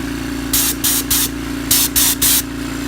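An air compressor's nozzle fires six short, loud blasts of hissing air at a fidget spinner, arriving in two groups of three over a steady low hum.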